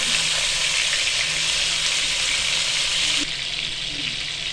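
Chicken pieces for Afghani dry chicken sizzle in hot oil over high heat, a steady loud broadband frying hiss that continues throughout, dropping slightly in level near the end.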